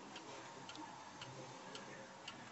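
A pendulum chime clock ticks faintly and steadily, with evenly spaced soft clicks about twice a second over low background hiss.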